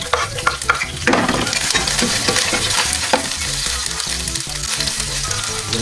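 Ground meat (giniling) with saluyot leaves frying in a pan, with steady close sizzling and repeated scraping stirs throughout, no talk.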